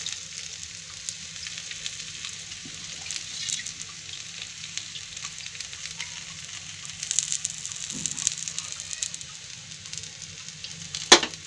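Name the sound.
flatbread roasting on griddle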